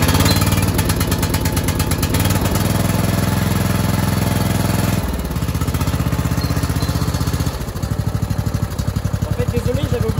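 A Toro Quick Shift lawn mower engine started cold on choke, chugging with a loud, steady rapid pulse that dips briefly, then picks back up and keeps running close by.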